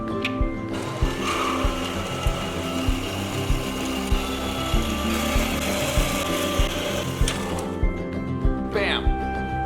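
A power saw chops through steel angle for shelf brackets, cutting with a steady high whine and regular thumping strikes, with a sharp metallic squeal near the end.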